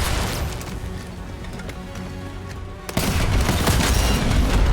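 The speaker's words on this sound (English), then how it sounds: "I could probably shoot him with the RPG a few times and be done with it." An RPG rocket launcher firing at an enemy in a video game, with continuous gunfire and rumbling, then a sharp blast near the three-second mark followed by louder, denser firing.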